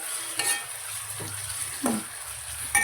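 Onion and tomato fry in a pan for sambar, a steady soft sizzle with a few stirring scrapes of a spoon against the pan, close and alone with no talk.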